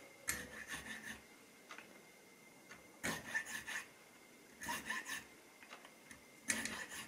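A file rasps against wood during a guitar repair at the nut, heard as four quiet bursts of back-and-forth strokes separated by pauses, close and alone.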